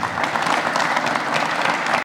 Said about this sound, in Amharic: ሞቅ ባለ ጭብጨባ